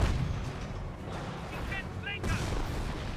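Machine gun fire crackles at a distance in the WWII strategy game Company of Heroes, with muffled booms and battle noise underneath and a voice talking over it.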